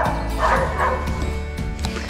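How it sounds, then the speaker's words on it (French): Several dogs barking and yipping at a horse stable in the Laurentians, repeated bow-wow barks with a few whimpers, fairly close and steady across the whole stretch. "ils vont finir d'aboyer les chiens"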